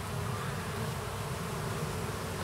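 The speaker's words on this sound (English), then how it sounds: "bees are quite thirsty this morning" Swarm of thirsty bees buzzing around a wagon on a dry desert morning, a dense, continuous drone that stays close and steady throughout.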